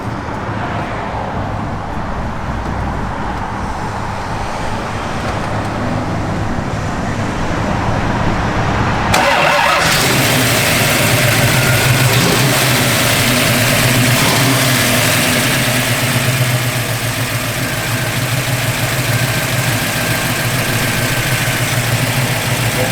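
A 1968 Ford Mustang engine rumbles at a rough idle, then fires up louder and settles into a steady, throaty idle close by, with no talking over it.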